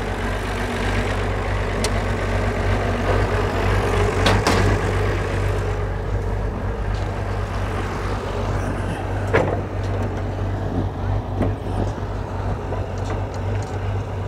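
A 1929 Ford Model AA truck engine runs at a steady idle outdoors, a constant low rumble with occasional clicks and knocks over about fourteen seconds.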